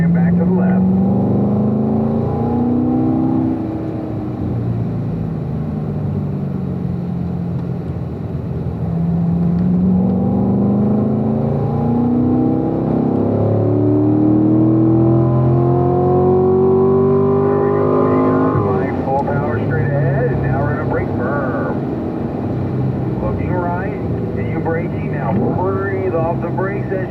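A car drives hard around a race track at a performance driving school, its engine droning and sweeping up and down in pitch as it accelerates and eases off, with an instructor talking over it throughout.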